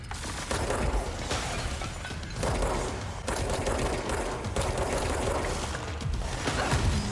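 Sustained rapid gunfire during combat in the video game Control, a dense, loud burst of shots and crashes that continues almost without a break and carries no talking.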